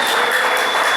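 A church congregation claps together in a dense, steady burst of applause, close and loud throughout, with no speech over it.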